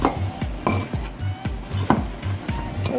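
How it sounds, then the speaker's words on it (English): A spoon scrapes and clanks rhythmically in a bowl of dry meatloaf mixture with ground garlic, onions and seasonings, a steady back-and-forth stirring of about six strokes, close and fairly loud. "So just want to stir all the seasonings up really well."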